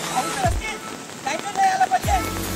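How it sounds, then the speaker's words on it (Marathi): Rain falls on a flooded road at Kelva Road, a steady pattering hiss with a few louder splashing thumps and a faint background voice. "आता पाऊस पडतो"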